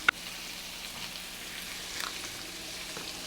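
Sliced onions for Sri Lankan seeni sambol, salted, sizzle and fry steadily in a pan, a soft continuous crackle with one sharp tap near the start, close and fairly quiet.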